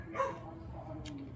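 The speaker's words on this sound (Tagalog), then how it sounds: "Pasensya na po sa aso." A dog on a farm gives a short, fairly distant bark or yelp, brief and quiet against low background noise.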